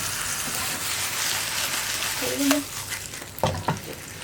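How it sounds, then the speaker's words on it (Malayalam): French fries frying in hot oil give off a steady crackling sizzle throughout, with a few sharper pops and stirring clatters partway through, heard close up with no talking. "അപ്പോൾ നമുക്ക് എണ്ണ ചൂടായി വരുമ്പോൾ ഫ്രഞ്ച് ഫ്രൈസ് ഇട്ട് കൊടുക്കാം"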